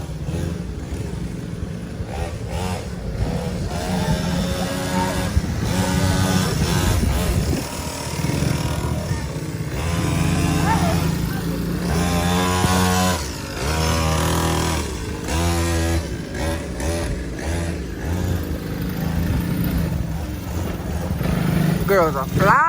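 A kid's small dirt bike engine revs and drones steadily, rising and falling as it rides, with someone talking over it much of the time.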